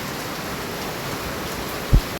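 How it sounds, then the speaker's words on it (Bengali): Heavy, continuous rain falls in the dark at the Kuakata seashore, an even wash of steady noise with one brief low thump near the end. "প্রচুর বৃষ্টি হচ্ছে প্রচুর এক টানা বৃষ্টি হচ্ছে"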